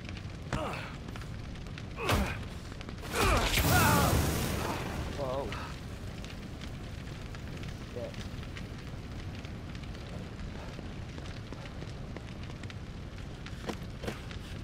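Flames roar around a burning house in The Evil Within 2, with a loud whooshing surge and crackling bursts early on, then a steady fiery rumble under scattered pops.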